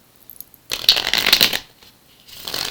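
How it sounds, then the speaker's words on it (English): Tarot cards are riffled and shuffled close up in two bursts, a crisp fluttering rush, then a pause, then another shorter shuffle starting. "I got a couple more shuffles left to go."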